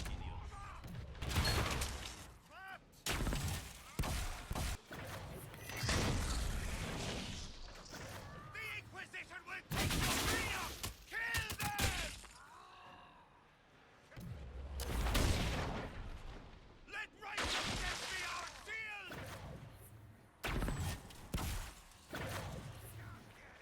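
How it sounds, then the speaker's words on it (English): A fire mine goes off in Dragon Age: Inquisition amid loud combat: repeated heavy blasts and thuds, with crackling impacts spread through the fight and a voice talking over parts of it. "That's a well-placed fire mine, if I say so myself."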